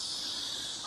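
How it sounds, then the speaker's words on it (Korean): Korean cicadas drone by an overgrown grassy riverside on a summer walk, a continuous high, hissing buzz that holds steady and fairly loud throughout, with no voices. "중국 매미보다는 한국 매미 소리가 더 좋은 것 같습니다"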